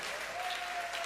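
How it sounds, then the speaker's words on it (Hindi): Audience applause for a young child at a Jain religious quiz program, a brief steady patter of clapping from a seated crowd. "एक बार जोरदार तालियां।"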